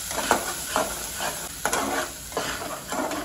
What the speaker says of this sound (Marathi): कच्चा मसाला असल्यामुळे मी याला जरा 2 मिनिटं तरी फ्राय करेल।